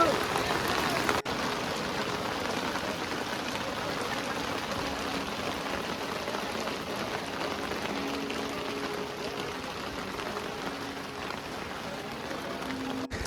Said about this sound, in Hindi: सो जी ज़बरदस्त बारिश आ चुकी है यहाँ पर जोजीबल के पास।